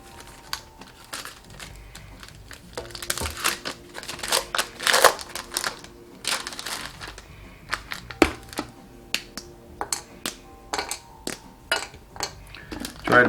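A bar of dark chocolate snaps and cracks as it is broken into pieces for brownies, with sharp irregular clicks and small bursts close by in a quiet kitchen.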